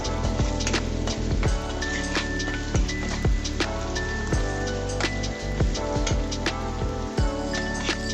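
Parboiled, salted potatoes frying and being stirred in a pan, giving a steady close crackling sizzle dotted with scattered sharp pops and spatters.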